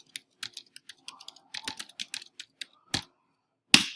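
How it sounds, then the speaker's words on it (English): Fingers type on a computer keyboard, a quick irregular run of close, crisp key clicks with short pauses, ending in one louder key press, no voices. "I can just start typing"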